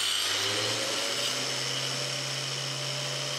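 A Mechanic Slider 45 Pro tile cutter runs with a steady motorized whine and hum while making its first cut, continuous and fairly loud throughout.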